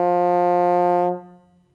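A single trombone note held steady and rich for about a second, then fading away, heard alone.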